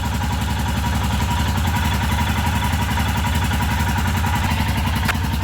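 A Royal Enfield Himalayan motorcycle engine runs steadily in a garage, a loud, close, even single-cylinder thumping and mechanical clatter that holds throughout without voices.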